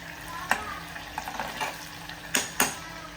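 Food cooking in a pan is stirred with a few sharp scrapes and clinks over a soft background sizzle, close by.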